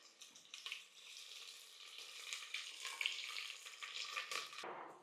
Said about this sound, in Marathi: यामध्ये दोन मध्यम आकाराचे कांदे उभे चिरून घेतलेले आहेत ते घालूयात आणि हा कांदा सुद्धा आपल्याला आता परतून घ्यायचा आहे